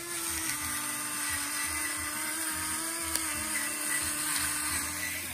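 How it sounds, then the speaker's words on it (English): A battery-powered electric pepper grinder whirs steadily as it grinds peppercorns in a home kitchen, a continuous buzzing motor drone running close and uninterrupted for several seconds with no talk. "When you turn it over, the light goes on and the pepper grinds by itself."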